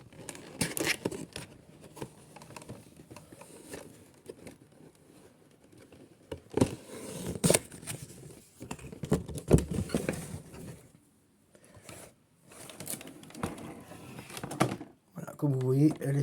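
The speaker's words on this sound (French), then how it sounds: "je vais vous déballer vite fait la figurine" A figurine is unboxed from its packaging, with soft crinkling plastic, rustling and small tapping handling noises close by, broken up by a French-speaking voice talking throughout.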